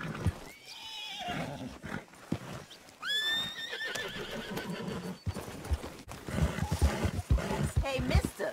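A horse neighs loudly several times in Red Dead Redemption 2, high whinnies rising over clattering hooves, with rough impacts and continuous gameplay noise underneath.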